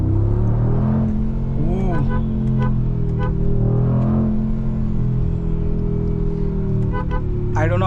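A Mercedes G63 AMG's engine rumbles loudly up close and rises as it accelerates on an Indian road, with a person's voice briefly exclaiming over the deep, continuous growl.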